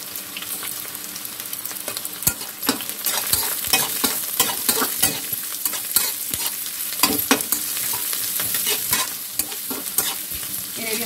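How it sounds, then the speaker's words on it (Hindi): Onions, mustard greens and other vegetables stir-fried on high flame in a pan for chowmein, with a loud continuous sizzle and frequent sharp scraping, clanking strokes of a spatula, close up, with no talking. "हाई फ्लेम पर ही हमें सब्जियाँ पकानी है"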